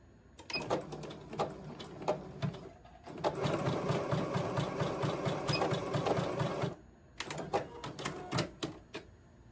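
A sewing machine stitches clothing, first in short rattling bursts, then in one long steady run, then in a few more quick bursts, close and clear with no talk.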